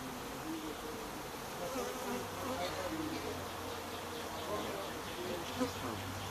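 Honey bees buzz continuously and close at hand in a hive workshop, a dense insect drone that includes the deeper hum of a male drone bee, steady throughout with faint talk in the background.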